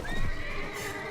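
A horse in Mount & Blade Warband gives one loud, close whinny during a mounted charge, a rising then wavering neigh lasting about a second with no talk over it.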